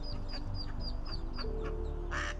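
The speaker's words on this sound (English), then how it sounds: "She quacked and made a fuss until someone heard her to help." A mother duck calls out repeatedly near a storm drain where her ducklings are trapped, her short, evenly spaced cries sounding moderately close over a constant low background drone.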